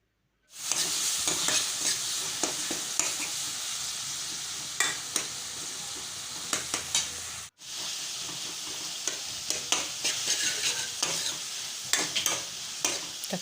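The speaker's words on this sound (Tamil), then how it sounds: "சேர்த்து கொஞ்சமாக உப்பு போட்டுட்டு நல்லா வணக்கி விட்டுடலாம்." Tomatoes with a little salt sautéed in a pan for radish sambar: a constant loud hiss of frying with frequent spatula scrapes and taps, starting abruptly and dropping out briefly midway.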